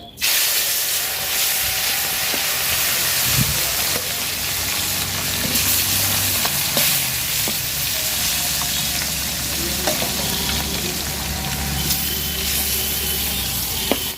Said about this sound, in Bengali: তেল গরম হয়ে গেছে মাছ দিয়ে দিলাম